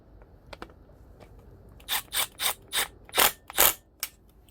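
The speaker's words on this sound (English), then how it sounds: "So now all the bolts are in there tight." A ratchet tightens the clutch bolts on a KE100 motorcycle: after a few faint clicks, six or seven short, sharp ratcheting bursts follow in a loose rhythm, close and distinct against a quiet room.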